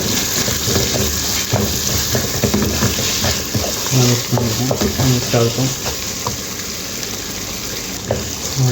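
Bottle gourd poriyal is stirred in a hot pan, with loud continuous sizzling and frying under repeated scraping strokes that grow busier midway, and no talking over it.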